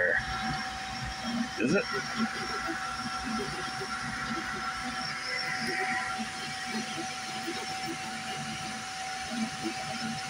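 A Creality K1 3D printer runs without feeding filament, a steady mechanical whir and hiss of moving motors and fans beneath a brief spoken question.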